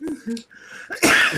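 A single sharp sneeze bursts out close and loud after a moment of quiet, with a breathy intake just before it and a short trailing exhale.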